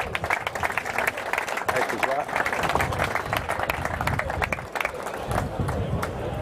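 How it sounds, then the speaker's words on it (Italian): Crowd applause at an amateur football awards gala in Veneto honouring category winners: sustained clapping from many hands with scattered cheering and murmuring, while someone speaks briefly over the noise. "Un applauso."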